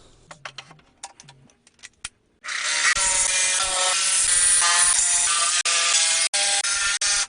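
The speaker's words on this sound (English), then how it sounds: "Now I gotta get some blades in the jigsaw and start cutting this" A loud, continuous jigsaw buzz cutting wood starts after a few quiet clicks and runs steadily, briefly dropping out a couple of times before resuming.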